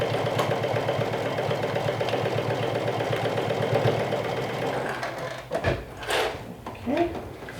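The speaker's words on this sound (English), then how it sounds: "So now I'm sewing as close as I can get it to the piping" A sewing machine runs a steady fast stitch along a dress seam close to the piping, its rhythmic mechanical whir continuous for several seconds before stopping, followed by handling noises.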